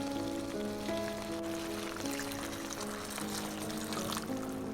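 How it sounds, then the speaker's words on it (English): Hot boiling water poured into a pan of king prawn bhuna with capsicum, a steady splashing, hissing pour running close and continuous throughout with no voices. "So I'm just going to add about 1 cup of hot boiling water."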